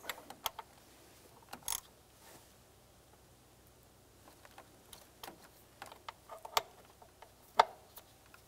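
A ratchet snugs a throttle body bolt on a 2008-2013 Nissan Rogue, giving faint, scattered clicks and short bursts of ticking in a quiet workspace.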